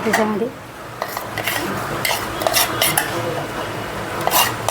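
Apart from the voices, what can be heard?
besan (gram flour) added and stirred into sugar syrup in pan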